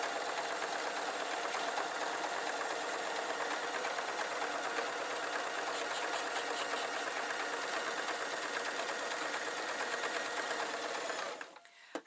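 A sewing machine zips in one long continuous run along oilcloth for a PVC tote bag, loud and close, then stops abruptly near the end.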